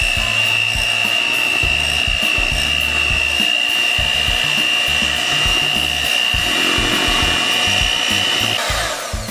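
Electric mixer whirling vanilla extract into Oreo cheesecake filling, a loud steady motor whine with scraping and rubbing against the bowl, continuous and close throughout, with no talking.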